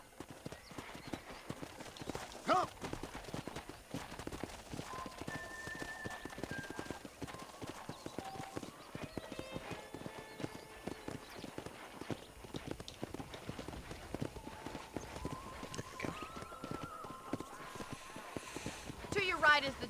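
Steady clip-clop of horse hooves from a ridden horse in the western game Red Dead Redemption, continuous and fairly close through the whole stretch, with a voice talking over it and a brief call to the horse.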